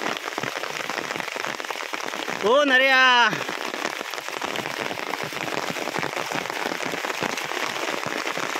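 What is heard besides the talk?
heavy rain falling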